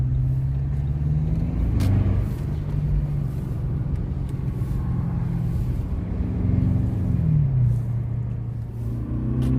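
An Audi A8 producing 800 Nm of torque accelerates hard along a road. A steady, loud engine rumble carries throughout, with the pitch rising and falling through gear changes, and no talking is heard.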